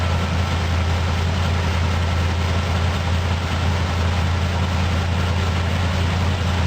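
A 1978 Jeep CJ7 engine idles steadily after being revived, a loud, constant low rumble with no break and no voices.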